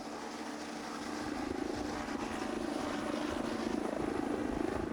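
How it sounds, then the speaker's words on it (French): Gendarmerie helicopter in flight, heard from close by or inside: a loud, steady rotor and engine roar with rapid low-frequency blade chop throughout, no voices. "Ce matin, ce n'est pas en voiture, mais en hélicoptère qu'ils vont patrouiller."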